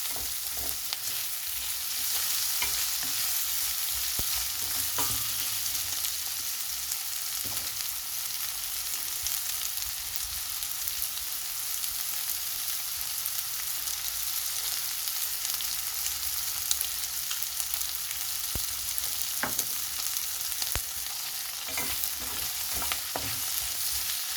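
Beef frying in a pan with seasoning added is stirred, giving a steady close sizzle throughout with soft intermittent scrapes and taps of the utensil, and no talking.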